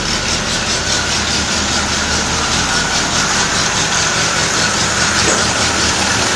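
A motor fitted with an exhaust-diverting attachment runs steadily and loudly up close, a constant rumbling drone with no pauses and no voices.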